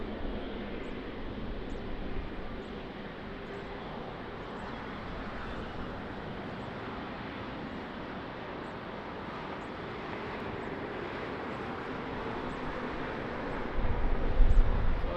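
A jet airliner roars steadily through its takeoff run at Lisbon Airport, a broad, continuous engine rumble heard from a moderate distance, with a slight swell in loudness near the end.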